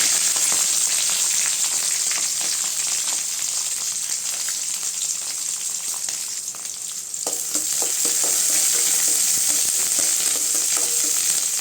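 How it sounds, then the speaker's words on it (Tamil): Onions sauté in hot oil with curry leaves in a pan, a dense, continuous crackling sizzle at fairly loud level, nearby, with scattered stirring clicks and no talk. "வெங்காயம் நல்லா வதங்கட்டுங்க வெங்காயம் நல்லா வதங்கிடுச்சுங்க"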